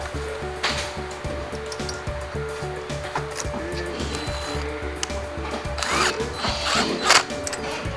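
Wrench tightening the nut on a central locking caster wheel, a steady run of close, rapid ratcheting clicks with a few louder metallic knocks near the end.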